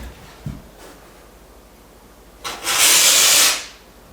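A loud, steady spray hiss lasting about a second, following a brief soft knock, with quiet background otherwise.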